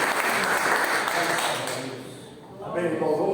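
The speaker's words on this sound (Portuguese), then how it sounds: "As palmas loucas ao Senhor." A church congregation applauds during a morning worship service, a dense wash of clapping that fades slightly toward the middle and swells again near the end, with voices mixed in.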